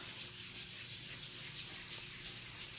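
Norwex cleaning paste rubbed in circles on a stove surface, a soft, continuous scrubbing swish that rises and falls with each circular stroke.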